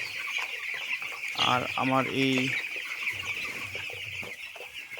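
Broiler chicks on a poultry farm keep up a dense, high, continuous peeping chorus close by, while a person speaks briefly over it.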